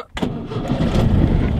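A 1983 Volkswagen Fusca (Beetle) air-cooled engine cranks and catches after a brief quiet start, then settles into a close, loud, rough idle that keeps running steadily.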